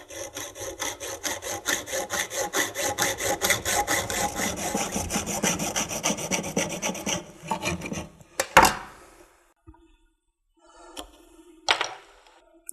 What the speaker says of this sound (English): So now we just cut the cable using the guide to guide the saw.